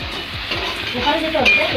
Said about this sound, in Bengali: এটা কলা ভাজা কলা ভাজা হচ্ছে আর এখানে বেগুন ভাজা